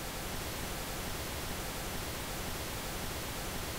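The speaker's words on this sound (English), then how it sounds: "To illustrate this quality, we'll listen to some pink noise. We'll begin by hearing it flat." Flat, unequalized pink noise runs through an API 550 Series equalizer: a steady, dense broadband hiss that stays loud and even for the whole stretch, alone with no voices.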